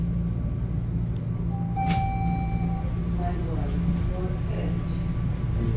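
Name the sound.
Toronto subway train riding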